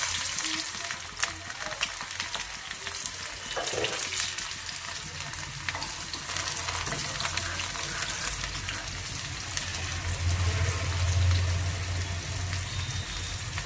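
Onions, star anise, cinnamon, cloves and a dried chilli fry in a pan for a prawn, raw mango and tamarind pulusu, giving a steady, close crackling sizzle with occasional stirring scrapes.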